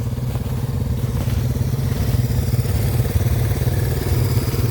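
Kawasaki KLX 150 motorcycle fitted with ice studs riding on back roads, its engine droning steadily and close with a low pulsing rumble and faint clatter throughout, no talk.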